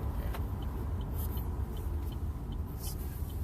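A Chevy Bolt electric car on a test drive gives a steady low road rumble and tyre noise from inside the cabin, with faint high whines and clicks over it and no voices.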